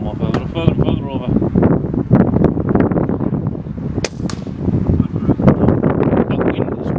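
Wind buffeting a microphone outdoors at an air rifle shooting session, a loud continuous low rumble with gusts, sharp clicks and pops cutting through, and a person talking over it.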